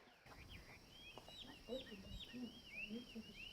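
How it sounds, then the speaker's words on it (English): A bird chirps in repeated short, bright, swooping calls at a moderate distance, with faint clucking-like sounds and quiet background noise underneath. "Do you hear that songbird?"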